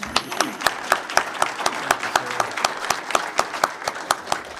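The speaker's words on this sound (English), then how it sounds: "So I think we should give Kenny a round of applause." A town hall meeting audience applauds, a moderate round of distinct claps repeating steadily throughout.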